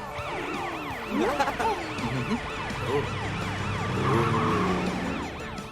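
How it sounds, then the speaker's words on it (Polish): A wailing police car siren rises and falls repeatedly beneath traffic noise and other tonal sounds, moderately loud and continuous. "Po włączeniu syreny wszyscy się rozjeżdżają na bok."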